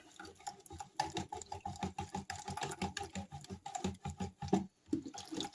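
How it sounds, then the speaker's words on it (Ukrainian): A spoon clinks rapidly and steadily against the side of a container while stirring jelly mix into hot water, close and fairly quiet, with no one talking. "Гарненько розмішую, гарненько розмішую і воно все розчинилось"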